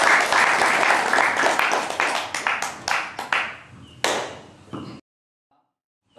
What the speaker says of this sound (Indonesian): Untuk itu tepuk tangan buat Bapak Agus Anwar Jatmiko.